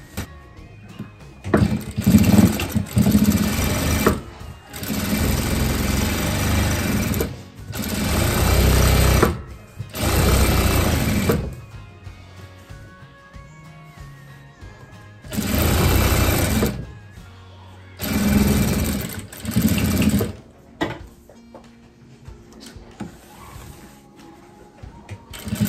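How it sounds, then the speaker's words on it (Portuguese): A sewing machine runs a straight seam along a dish towel in several loud bursts of a few seconds each, with short quiet pauses between runs and no talking. "Nós vamos passar uma costura reta aqui e depois dos lados."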